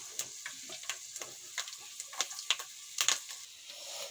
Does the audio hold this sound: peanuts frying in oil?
yes